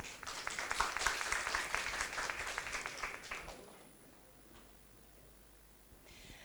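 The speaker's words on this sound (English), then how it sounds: "Please give her a big applause." An audience at a university summer course panel applauds steadily for a few seconds, the clapping then dying away into faint room tone.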